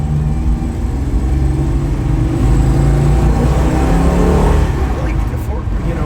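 A 1971 Plymouth Duster Twister with a factory 318 four-barrel V8 runs up close, its engine roaring and rising in a rev under steady loud output, while people talk over it.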